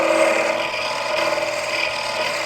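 A parting tool smooths a wooden tenon on a spinning lathe, giving a steady, close scraping rasp that holds at an even level throughout, with no talking.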